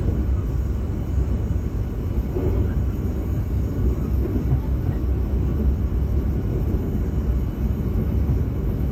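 A steady, loud low rumble of the Gaya Baru Malam Selatan economy-class train rolling along the rails between Jakarta and Surabaya, heard from on board, continuous and unbroken throughout, with no voices.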